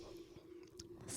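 Someone slurps a drink in a few short wet pulls, close to the mic, over a steady low hum, with the last pull louder and longer.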